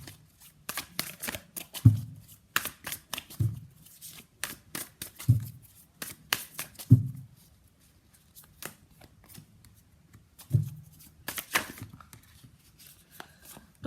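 Tarot cards riffle and snap as a deck is shuffled and cards are drawn, with quick papery bursts and several sharp slaps of cards landing, close and fairly quiet, with no talking.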